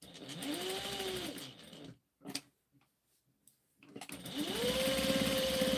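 A sewing machine stitching fabric coasters, running steadily in a continuous stitch, then stopping for about two seconds with a few faint clicks while the needle stays down to pivot, then running again.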